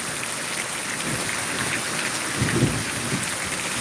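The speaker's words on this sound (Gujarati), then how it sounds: "વીજળીના તાત ચાલુ છે અને વરસાદ પડ્યો છે" Steady rain pours throughout, with a low rumble of thunder swelling briefly near the end.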